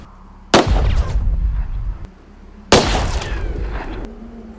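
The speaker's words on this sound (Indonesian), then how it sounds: "Kayak suara petasan." Two sharp, loud film gunshots like firecrackers, each followed by a rumbling echo that decays over a couple of seconds.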